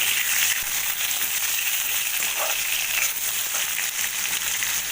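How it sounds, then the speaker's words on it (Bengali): Potatoes fry in a pan of oil with a steady, even sizzle and light crackle that runs throughout without pause or voices. "আলুগুলোকে ভেজে নেব। আলুগুলোকে ভেজে তুলব।"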